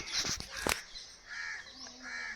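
Crows cawing in a backyard vegetable garden, several harsh calls in a quick burst near the start followed by softer, more distant calling, with faint voices in the background.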